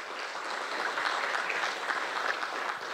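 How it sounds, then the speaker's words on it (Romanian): Audience applause at the launch event of an Easter charity campaign, a steady, full round of clapping from a sizeable crowd lasting the whole clip without talk. "vreau tare mult să le dați aplauze în acest moment pentru toată munca lor"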